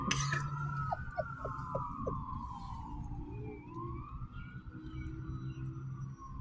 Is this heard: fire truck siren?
yes